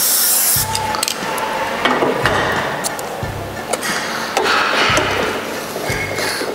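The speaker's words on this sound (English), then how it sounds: "I will also put our grease on it. That's better for a better sliding." Grease sprayed onto a 16 mm mild steel tube at a pipe bending machine, a loud hissing spray in bursts over a steady machine hum with repeated low thumps.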